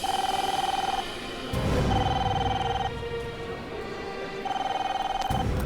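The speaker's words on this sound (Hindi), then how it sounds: "फोन यहाँ से बज रहा है" A telephone ringing in repeated electronic trill bursts separated by pauses, with rumbling movement and background noise between rings.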